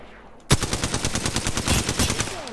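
Rapid automatic gunfire from a weapon in the Apex Legends shooter game, starting abruptly after a brief quiet moment and then sustaining a loud, evenly spaced burst of shots for about two seconds.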